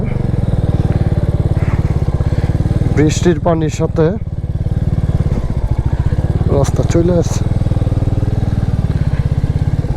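A heavy motorcycle rides a rough, rain-damaged hill road toward Bogalake, its engine droning loud and steady throughout while a rider's voice talks over it in two short bursts.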